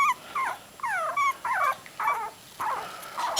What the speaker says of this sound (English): It is a puppy, Bubby. Yes. Here's a puppy. Those are lots of puppies